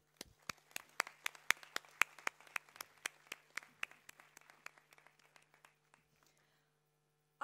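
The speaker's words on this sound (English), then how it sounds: "Ladies and gentlemen, a big round of applause to the proud graduates." Sparse applause at a university graduation, a few distinct hands clapping in a large hall, quick separate claps that thin out and fade to silence over several seconds, with a low steady hum underneath.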